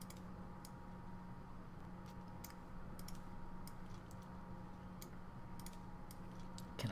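Soft, quick ticking taps of a code being entered in The Room 2 puzzle game, a steady run of light clicks over a low constant hum, faint and close.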